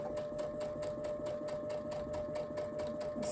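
A sewing machine stitching the seam of a patchwork pillow, its needle hammering in a fast, even rhythm with a steady motor whine, close up and alone.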